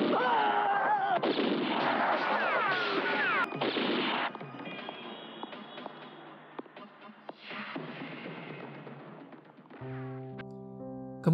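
Heavy gunfire and explosive blasts from a film soundtrack, loud and dense, easing into scattered shots before a sustained musical tone.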